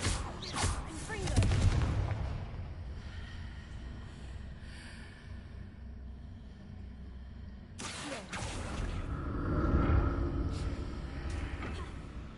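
Fire spell blasts from Hogwarts Legacy, two loud bursting explosions with crackling debris and rumbling tails, the first at the start and the second about two-thirds through, separated by a lower ambient rumble.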